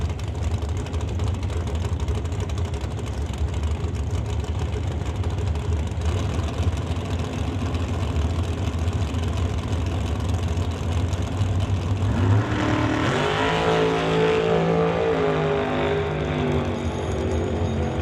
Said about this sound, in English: she just kind of idled away from the starting line